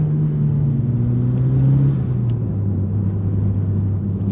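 A boosted 400 hp Lancer Evo 5 engine accelerates, a loud, close rumbling drone whose pitch climbs steadily before dropping at a shift and continuing to pull.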